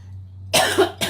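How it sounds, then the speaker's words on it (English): Two sharp, close coughs break a quiet background hum, the first longer and rougher, the second short. "I'm going to cough"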